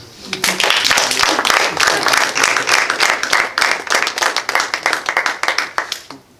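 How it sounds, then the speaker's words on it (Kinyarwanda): Congregation applause at an evangelical church service, a dense burst of many hands clapping close and loud, settling into a rhythmic, individually audible patter before fading out. "Mwankomere amashyi."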